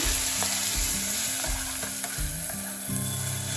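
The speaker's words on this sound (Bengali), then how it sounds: "পেঁয়াজ ভালো করে ভেজে দিচ্ছি টমেটো, টমেটোটাকে হালকা ভেজে নিই" Onion and tomato with ginger-garlic paste frying in a pan, a constant close sizzle broken by regular stirring scrapes, with nobody talking.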